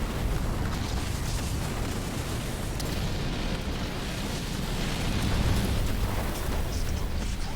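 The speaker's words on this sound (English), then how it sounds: "Scarab's going to be shooting the Wraith instead." Scarab beam firing at a Wraith in the strategy game Halo Wars 2, a steady, loud roaring blast that holds without letup, layered with crackling impacts and rumble.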